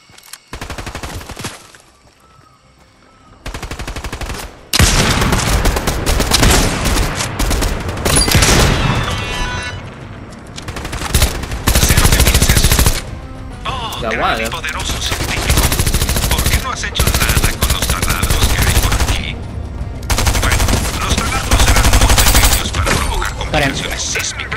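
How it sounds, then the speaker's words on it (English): Sustained automatic gunfire from NPC enemies in Fortnite, dense rapid bursts and loud booms that run almost continuously after a brief quieter opening, close and intense. "There's someone shooting it."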